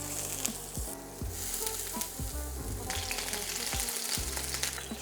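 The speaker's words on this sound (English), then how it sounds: "tuna goes in, make sure you hear the sizzle" A tuna steak sears in a very hot pan with a loud, continuous sizzle, broken by a few sharp scrapes and taps, while faint music plays underneath.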